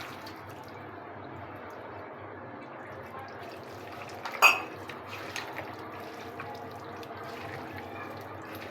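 Milk poured into a pot of beef cooking on the stove, a soft continuous liquid wash with one brief clink of utensil partway through, fairly quiet and close.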